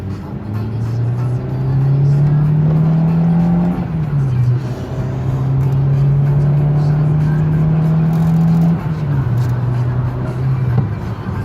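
A Renault 19 Alizé 1.8 110hp car engine drones steadily at about 100 km/h, its pitch climbing through gears with a shift partway through, loud and continuous with road noise underneath.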